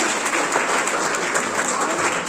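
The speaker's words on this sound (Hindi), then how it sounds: "हमारे DAV के जितने भी टीचर्स हैं और DWT के लिए उनके लिए भी तालियां हो।" Dense, steady applause from an audience at a school speech competition marking Maharshi Dayanand Saraswati's birth anniversary, filling the moment at an even, loud level with no talk over it.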